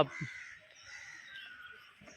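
A crow caws in a drawn-out, harsh call near a temple surrounded by nature outside Pune, fairly faint and heard alone.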